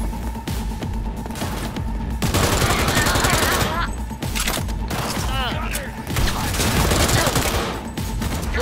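Automatic gunfire in the game Cyberpunk 2077, loud sustained bursts of rapid shots broken by brief pauses, with mechanical clatter and a voice speaking over the gameplay.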